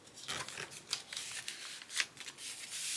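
Scissors cut fabric binding for a quilted journal, giving a series of short, crisp snips and rustles at close range with no voices.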